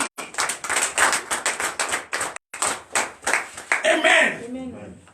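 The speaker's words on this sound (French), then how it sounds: "Papa, donnez l'acclamation" Rhythmic, synchronized clapping from a church congregation at a morning prayer service in Comè, Benin, with loud, even beats that break off briefly and then resume, and voices rising toward the end.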